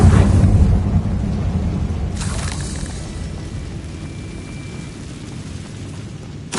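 A Confringo blasting spell explodes in the Hogwarts video game: a loud, deep boom at the start, followed by a rumbling decay with a brief crackling burst partway through and a fresh thud at the very end.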